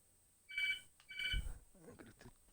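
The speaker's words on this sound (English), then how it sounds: "I'm going to see who's on the phone." A telephone rings twice in two short electronic bursts, clear and fairly close, with faint background noise and a brief low rustle after the second ring.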